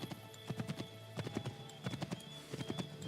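A horse gallops in Assassin's Creed III, hooves clip-clopping in quick, uneven clusters of beats throughout, fairly close, over a soft game ambience.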